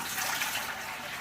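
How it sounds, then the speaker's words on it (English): Four cups of water pour into a cooking pan in a steady, hissing gush that lasts the whole moment, close and fairly loud, with no voices over it. "So we just take our 4 cups of water and we pour it into this pan"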